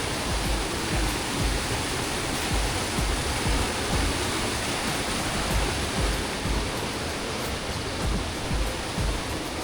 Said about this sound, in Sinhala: මේ වටෙන් තමයි වතුර යන්නේ විදුලි බලාගාරයට ඇතුළට